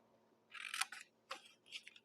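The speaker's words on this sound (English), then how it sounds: "we're going to snip up to the score line" Scissors snip through paper for a mini coffee cup treat holder, cutting up to a score line: three short, crisp cuts close by in a quiet room, the first one longest.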